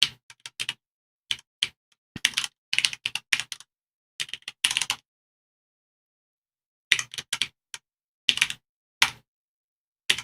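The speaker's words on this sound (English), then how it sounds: "Put this into my script here." Computer keyboard typing in quick clustered bursts of crisp clicks, separated by silent pauses, close and fairly quiet with no talking.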